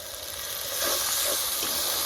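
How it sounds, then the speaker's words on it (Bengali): Water splashes into a hot pan of boiled, lightly fried peas, and a steady steam hiss and sizzle swells after a brief moment, staying loud and continuous to the end. "এবার এতে আমি হালকা একটু জল অ্যাড করব এটা কষানোর জন্য"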